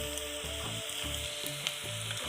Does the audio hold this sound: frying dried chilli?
yes